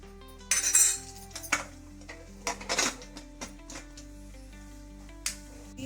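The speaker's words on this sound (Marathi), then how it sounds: "मी त्याला झाकण लावून घेते कुकरला." A metal lid is fitted onto a pressure cooker of boiled mince, with a series of clanks, clinks and scraping metal contacts in a quiet kitchen, loud at first, then sparser taps.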